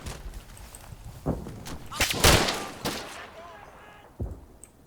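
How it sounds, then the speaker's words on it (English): Heavy machine gun fire in the Combat Mission Final Blitzkrieg wargame, Lanzerath Ridge battle, heard as scattered sharp bursts and thuds at moderate distance over a low rumbling battlefield background. "Those heavy machine guns are doing some damage."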